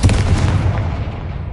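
Confringo fire spell explosion in Hogwarts Legacy, a loud booming blast with dense low rumble that decays steadily over a second and a half, with no talking.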